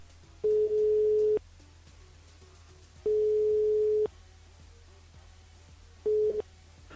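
A phone line gives a ringing tone while a call is placed again: three steady, even beeps, each about a second long, separated by quiet gaps over a faint low hum.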